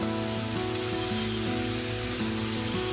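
Onions fry in a pan for homemade egg fried rice, giving a steady, soft sizzle that runs evenly throughout beneath a low background hum.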